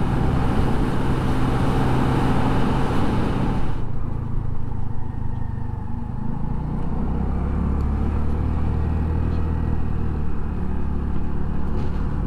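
A Honda Navi mini motorcycle pulls away from traffic at wide-open throttle, its small engine droning steadily and loudly close by over road noise, with the tone shifting partway through as it gains speed.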